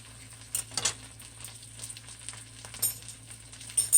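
A porterhouse steak fries in a pan, a soft steady sizzle with a few louder spits and pops, fairly quiet and close, with no talking.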